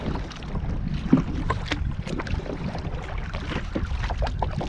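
Kayak paddled south into a headwind along the coast of Eriskay and South Uist in the Hebrides, with steady wind rush over the microphone, water sloshing against the hull and irregular paddle splashes throughout.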